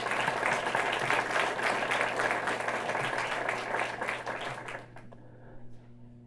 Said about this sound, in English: Let's give them a big round of applause as a whole.